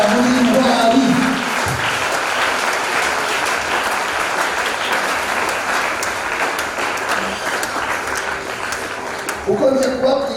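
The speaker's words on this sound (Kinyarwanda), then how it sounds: "Ndagusaba gukoma amashyi cyane kuko abantu b'intwari." Sustained applause from a church audience at an anointing ceremony for evangelists and deacons, dense and loud for about ten seconds, with a voice speaking over the clapping at the start and near the end.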